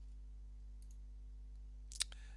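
A single soft mouse click near the end, close and brief, with a faint tap just before it under a low steady hum.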